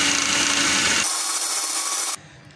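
A kitchen mixer grinder whirs through ginger and garlic with salt and oil, blending them into a paste. The steady, loud, coarse grinding noise shifts partway through, then cuts down abruptly near the end.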